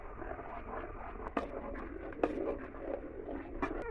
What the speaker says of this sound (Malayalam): നന്നായി മിക്സ് ചെയ്ത് കൊടുക്കാം.